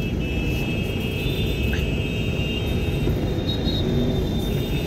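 Dense road traffic rumbles steadily in Lanka, Varanasi, a constant low engine drone with faint horn tones and passing vehicles, close and continuous without clear speech.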